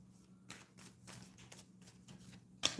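Tarot cards being shuffled and drawn, with a series of soft papery flicks and riffles at an irregular rhythm, close and fairly quiet, ending in a louder crisp snap of cards.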